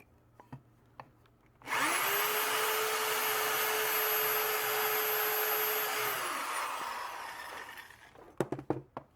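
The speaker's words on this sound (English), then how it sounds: "And I'm just going to do a little countersink." Power drill cutting a countersink hole in a knife display, a steady high whine running about four seconds at close range before winding down, with a few knocks and clatters before and after, no talk.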